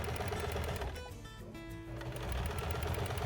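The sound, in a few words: sewing machine stitching a mug rug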